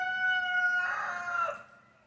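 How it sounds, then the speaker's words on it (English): Chicken crowing close by, a single drawn-out, strongly tonal cock-a-doodle-doo that fades away after about a second and a half. "Good lord, that damn chicken."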